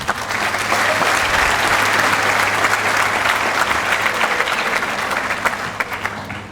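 An audience at a school graduation ceremony claps loudly and continuously for a graduate receiving a diploma, with a low steady hum beneath the applause that fades slightly toward the end.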